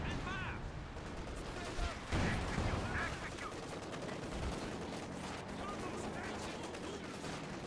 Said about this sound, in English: And now comes the Katusha to add insult to injury.